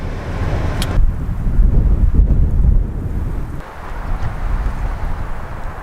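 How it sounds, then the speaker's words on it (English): Strong wind near Yellowstone roars and buffets the microphone in heavy gusts, loud and rumbling, easing slightly toward the end. "It's pretty windy out there."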